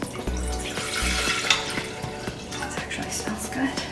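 Homemade walnut milk poured for a turmeric and ashwagandha latte, a close, continuous liquid trickle and splash with a few small drips lasting a few seconds.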